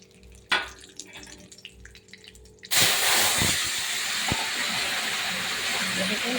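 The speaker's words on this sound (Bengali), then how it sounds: "দেখুন এবার আমি তরকারি ঢেলে দেবো।" Curry poured into hot oil with cumin and chilli for a hilsa, pumpkin and potato dish sets off a sudden loud sizzle that holds steady, after a few quieter kitchen clatters.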